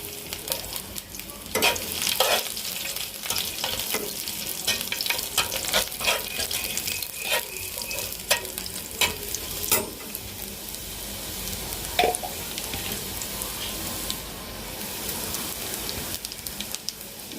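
Garlic and panch phoron fry in hot oil for a thick dal, a steady broadband sizzle running throughout with repeated scraping stirs of a spoon in the pan, close and fairly loud, no voices.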